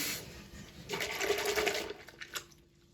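A small amount of water is poured into a bowl of warm soapy solution for soaking a knitted swatch, giving a short, soft splashing burst that fades into quiet trickles.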